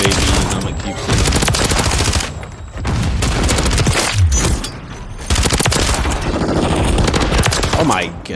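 Rapid first-person shooter gunfire, dense automatic bursts and single shots stacking over each other in loud volleys with brief pauses, a voice talking faintly underneath.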